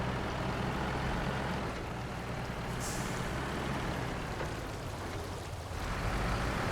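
A Royal truck engine in the off-road driving game SnowRunner runs with a constant low rumble and a brief hiss partway through, loud and steady throughout.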